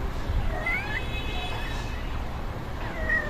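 Several high-pitched kitten meows, short and wavering, come one after another over a low, steady background rumble.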